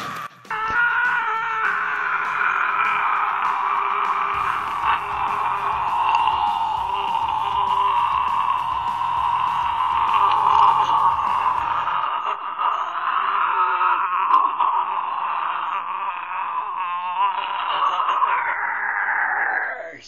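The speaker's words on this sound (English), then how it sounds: "The Chester Bennington scream." A sustained, strained male scream in the style of Linkin Park vocalist Chester Bennington, one long raw wail holding for most of the stretch with a low buzzing hum underneath in the middle.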